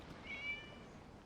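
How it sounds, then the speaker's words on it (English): A faint, brief video game cat meow in a quiet setting with a low background hum. "It was just a cat."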